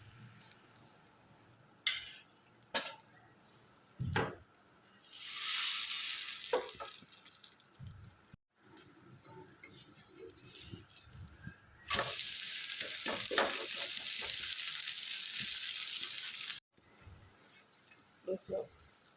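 Rava dosa for a fast sizzles on a hot pan, a steady close hiss that rises in long stretches, broken by scraping and clinks, while someone talks over it.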